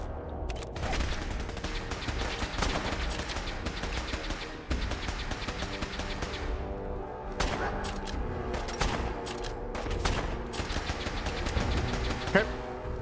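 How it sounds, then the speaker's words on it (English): Gunfire and grenade explosions in the video game Fallout 4: sustained bursts of rapid shots and heavy blasts, loud and dense, with a voice speaking over the combat. "Somebody's lobbing some serious grenades out there."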